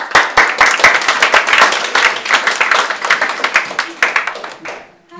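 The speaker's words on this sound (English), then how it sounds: "Can we give a round of applause to our..." Small audience clapping in a room, close and loud with distinct individual hand claps in an uneven rhythm, tapering off and ending abruptly near the close.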